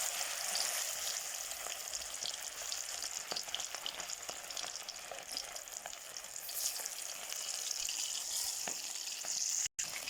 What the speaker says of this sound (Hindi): अब मैं इसे एक एक को डालती हूँ। इसके अंदर घी गर्म हो गया है